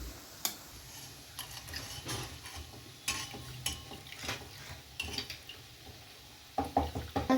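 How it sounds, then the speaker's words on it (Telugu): Custard milk stirred slowly in a pot on the stove for chocolate ice cream, with repeated scraping and knocking of a spoon against the pot over a faint simmer, close and fairly quiet. "సిమ్గా మెల్లగా కలుపుకోవాలి"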